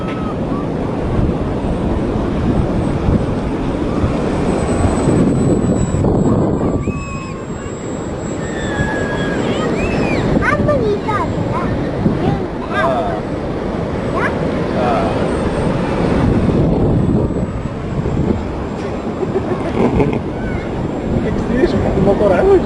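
A ParkZone T-28 Trojan RC plane flies over a beach, its small motor a thin, wavering whine that rises and fades through heavy wind noise, while people talk nearby.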